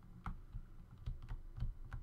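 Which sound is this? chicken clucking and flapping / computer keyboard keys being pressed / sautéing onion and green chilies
computer keyboard keys being pressed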